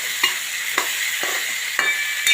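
Okra curry with salt and turmeric being stirred in a pan, with five distinct scraping strokes at regular intervals over a continuous bright sizzle, close and fairly loud.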